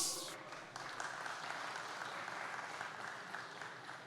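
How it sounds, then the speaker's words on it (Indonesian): Thin, scattered clapping from a modest audience at a political town-hall event, fairly quiet and short-lived, with a brief louder burst at the very start before settling into a soft patter. "Tepuk tangan yang kurang menandakan hari ini bukan acara relawan."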